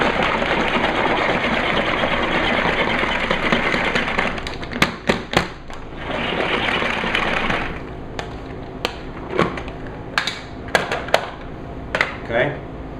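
A Tupperware chopper works through peppers for salsa: several seconds of steady whirring and rattling, then a run of sharp, separate taps and clacks close by.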